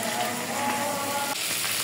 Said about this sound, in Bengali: 5 মিনিটের মতো একটু ভাজা ভাজা করে নিলাম